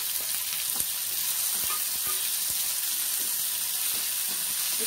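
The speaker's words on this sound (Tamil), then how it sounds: "தக்காளி நல்லா வதங்கிடுச்சு" Tomatoes sautéing in a pan for garlic chutney: a steady, close sizzle with soft intermittent stirring clicks throughout, no voices.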